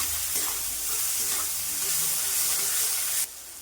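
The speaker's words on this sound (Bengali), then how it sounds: "2-3 মিনিট ভেজে নিব পেঁয়াজটা আলুর সঙ্গে।" Potatoes and chopped onion fry together in a pan with a dense, steady sizzle and hiss, broken by a few stirring scrapes, then the sound drops suddenly near the end.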